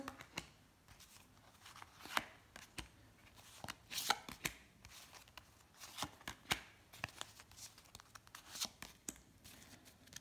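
A deck of tarot cards is shuffled close up during a reading, a soft run of quick riffling bursts and crisp flicks repeating in an irregular rhythm against a quiet room.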